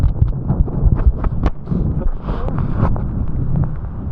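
Gale-force wind on Helvellyn buffets the microphone with a loud, low roaring rumble that gusts and surges unevenly throughout.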